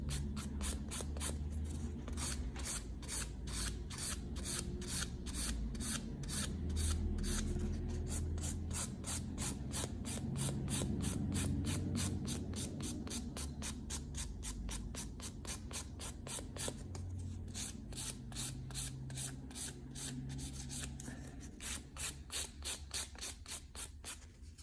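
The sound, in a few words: filing a gel nail sculpture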